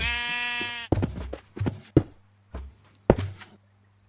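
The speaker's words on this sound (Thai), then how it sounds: "ผมเลยต้องตุนพวกแกะไว้เยอะ" A video-game sheep gives a clear, close bleat, followed by scattered soft taps and thuds from in-game actions in a survival game.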